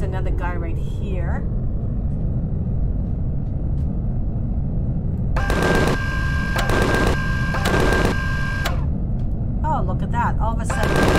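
Gunfire in the multiplayer sci-fi game Empyrion: several sharp, loud bursts of rapid shots cluster mid-clip over a constant low rumble, while someone talks before and after.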